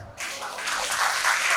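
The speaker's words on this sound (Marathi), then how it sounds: "ते एकदा जोरदार टाळ्या माझ्यासाठी झाल्या पाहिजे" An audience at a 75th birthday celebration breaks into applause that starts after a brief quiet gap and builds into steady, dense clapping that grows slightly louder toward the end.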